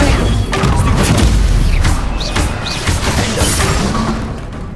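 A loud, roaring burst from the Incendio fire spell in Hogwarts Legacy fills the moment with a dense, crackling whoosh and rumbling impact that slowly eases off.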